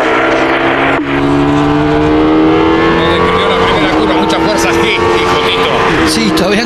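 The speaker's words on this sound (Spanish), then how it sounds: "escuchar el sonido de un Fórmula 1" Benetton Renault B196 Formula 1 car running at Termas, its high-pitched engine whine loud and continuous with slowly shifting pitch, heard under people talking.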